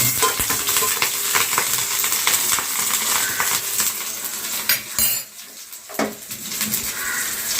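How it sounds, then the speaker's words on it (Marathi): Split green chillies fry in hot oil with a loud, crackling sizzle, mixed with clinks and scrapes of a utensil against the pan and a short quieter pause. "मिरच्या घालून घेऊया तेलामध्ये."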